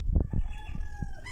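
A chicken clucks a few quick times nearby, short and throaty, in a brief burst.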